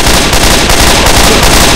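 Loud, dense gunfire rattles continuously in a rapid stream of overlapping shots, filling the short stretch with no pauses and no voices.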